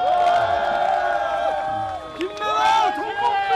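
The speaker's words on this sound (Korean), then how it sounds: "큰 박수로 환영해 주시기 바랍니다" A crowd at a Seoul mayoral candidacy announcement cheers and applauds loudly and continuously, with voices whooping and chanting rising and falling over the steady clapping.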